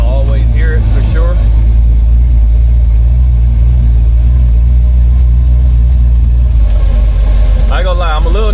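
A 1934 Ford with no top, its engine running steadily with a loud low rumble throughout, while people talk over it at the start and end.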